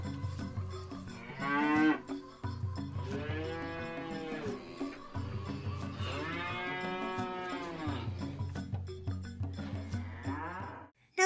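A farm ox lows in several long, drawn-out moos over a steady backing of low synthesized music, loud and close throughout.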